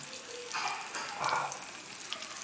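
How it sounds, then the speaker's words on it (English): Fresh bitter olives fry slowly in olive oil in a pan, giving a soft, steady sizzle with faint bubbling pops throughout, low and close. "They have started frying now, very slowly, very slowly."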